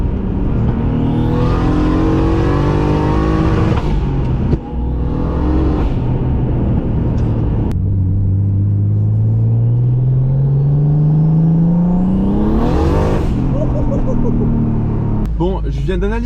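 Turbocharged BMW E36 325i running 1.5 bar of boost, loud engine revving in repeated pulls with rising pitch sweeps, a long climbing rev near the end and sharp turbo whooshes between throttle bursts.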